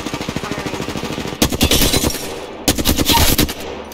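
Apex Legends gunfire opens with an even string of rapid automatic shots, then two louder, denser bursts break out close by, separated by a brief lull.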